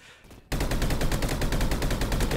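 Automatic gunfire in the Roblox shooter Energy Assault, a sudden burst of rapid, evenly spaced shots that starts after a brief quiet moment and keeps going loud and close to the end.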